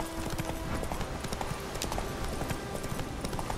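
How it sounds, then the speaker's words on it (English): The horse Roach gallops in The Witcher 3: Wild Hunt, its rapid, steady hoofbeats loud and continuous throughout, with no one talking over them. "Come on, Roach"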